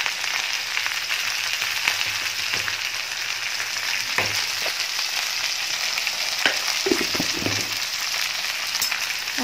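Spices sizzle and fry in a pan while being stirred and mixed, a steady close crackle broken by occasional scrapes and knocks, with no talk.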